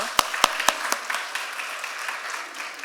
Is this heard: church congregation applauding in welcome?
yes